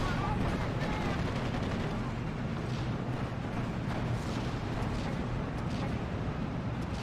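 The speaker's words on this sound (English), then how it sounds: "putting down that smoke artillery for us to allow us to get close to our enemies" Smoke artillery barrage in the WWII strategy game Steel Division: Normandy 44, a dense continuous rumble of distant gunfire and shell impacts with talking over it throughout.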